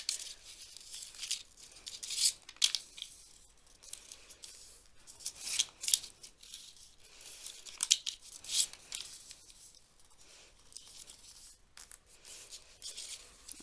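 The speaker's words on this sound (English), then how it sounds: "So I'm accordioning it back." Paper folded accordion-style gives sharp crisp creases and rustling crinkles at irregular intervals, fairly close and moderately quiet.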